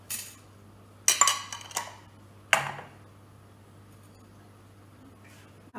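Peas, potatoes and carrots are dropped into a pressure cooker in a home kitchen, a few separate metallic clinks and clatters with quiet pauses between them against a low steady hum.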